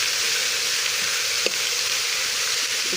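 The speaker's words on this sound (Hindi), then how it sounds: "इसको भूनते वक्त ही साथ में हम टमाटर भी डाल देंगे। इसी तरह ये साबुत मसाला डालेंगे।" Tomato and whole spices frying in a pan for beef korma, a loud, steady close sizzle with a single sharp click partway through.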